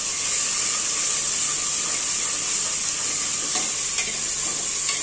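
Onion fries in oil in a pan with a loud, dense, continuous sizzle and hiss, close to the mic, with faint stirring clicks near the end.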